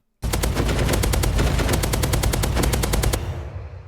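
Rapid automatic fire from the Blossom rifle in the Minecraft Just Enough Guns mod, a fast, evenly spaced burst of about twenty loud shots lasting three seconds, then a short fading tail.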